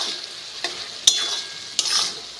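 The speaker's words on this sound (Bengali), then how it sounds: "এবার কষিয়ে রাখা আলুগুলো দিয়ে দিচ্ছি" Spiced potatoes go into a pan of cooked masala and are stirred, giving a soft sizzle broken by three sharp spoon scrapes and knocks against the pan, close and clear, with no talk.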